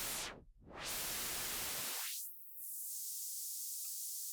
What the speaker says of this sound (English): Where be you, white noise creator?